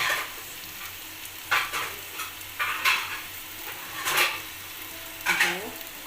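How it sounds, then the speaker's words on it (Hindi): Soy sauce being stirred into a pan of chicken corn pasta, with a steady low sizzle underneath and several short scraping, stirring strokes from a utensil at irregular intervals, close and moderately loud. "अब मैं इसके अंदर सोया सॉस मिक्स कर रही हूँ, तकरीबन 2 चम्मच।"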